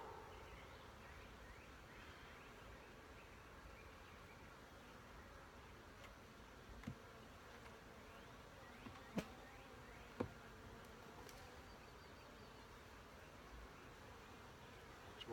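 Honey bees buzz steadily during a hive inspection, a dense, faint swarm hum with a few sharp clicks from handling, with no talking.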